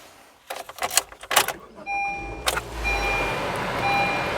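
Keys jangle and a 2021 Honda HR-V Sport cranks and starts, settling into a low, steady idle rumble while soft electronic chimes repeat from the cabin.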